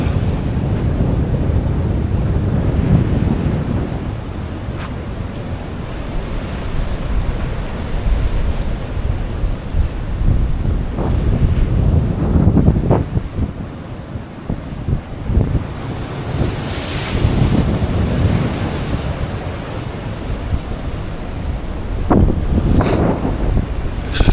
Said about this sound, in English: Have a look at these waves, would ya?